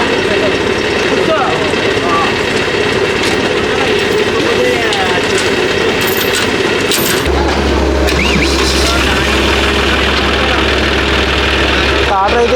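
A John Deere 5105 four-wheel-drive tractor engine starts and runs steadily, its loud low rumble continuous throughout with a deeper, heavier drone setting in partway through; background noise mixes in.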